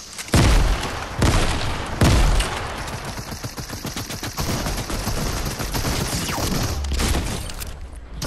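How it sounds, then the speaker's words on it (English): Grenades explode in a video game firefight: a few heavy, loud booms land among a steady clatter of gunfire and battle noise. "And then I'm gonna throw grenades."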